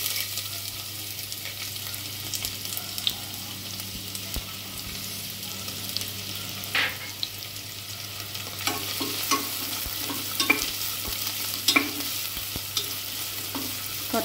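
Onions sizzle and fry with garam masala in a hot pan, a steady soft hiss with occasional stirring scrapes and clinks, fairly quiet throughout.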